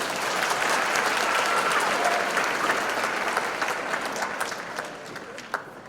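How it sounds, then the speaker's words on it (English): An audience at a scholarship pageant gives the candidates a full, steady round of applause that holds strong and then tapers off toward the end, with scattered claps lingering. "Let's give them another round of applause."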